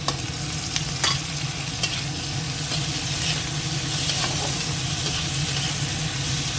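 Green chilli and tomato fry with onion in a pan, giving a steady close sizzle with clattering stir strokes scattered throughout and no talk.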